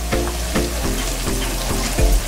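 Ground masala paste for misal pav sizzles in hot oil, a steady frying hiss broken by a few stirring scrapes against the pan.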